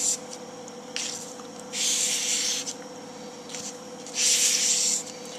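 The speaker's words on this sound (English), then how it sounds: "Towards the end of each grit, I will do single passes, just so that you straighten out that edge." A Cold Steel Trail Master knife edge being convexed on abrasive grit, heard as a few separate scraping rubs of uneven length, the longer strokes fairly loud and close, with no talking.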